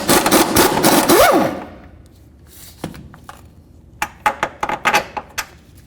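Wrench work on the top nut of a lower control arm bolt on a 2007-2017 Jeep Compass: a loud whirring burst at first, then a quiet stretch and a run of sharp metallic clicks and clanks close by, with no talking.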